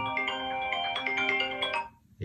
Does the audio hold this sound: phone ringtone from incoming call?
yes